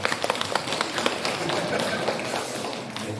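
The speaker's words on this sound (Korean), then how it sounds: "박수를 한번 해주시기 바랍니다." Congregation applauding during a church Sunday service, a dense, steady wash of clapping from many hands filling the room, with faint voices underneath.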